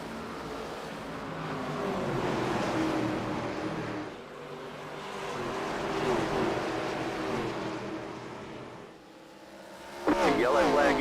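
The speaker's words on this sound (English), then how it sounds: "Let's hear these engines roar loud and proud." Race car engines roar on the opening lap at Indianapolis Raceway Park, swelling and fading in waves as the pack passes, with a sharper burst near the end while an announcer talks over them.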